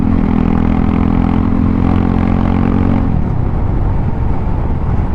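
A KTM RC 390 motorcycle with no exhaust fitted roars loudly up close while riding at around 70 to 80 km/h, a raw, buzzing engine note that drops from a strong rev into a rougher, lower rumble.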